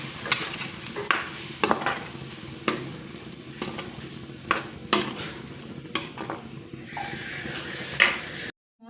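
Chickpeas frying in a pan after a little water is added, giving a steady sizzle broken by repeated close scrapes and knocks of a spoon against the pan.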